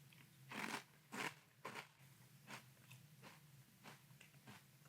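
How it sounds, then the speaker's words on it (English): Crunchy pumpkin spice keto cereal eaten in milk, with several loud bites early on followed by steadier, softer chewing crunches at a close, intimate distance. "Let's try Catalina Crunch Pumpkin Spice in milk."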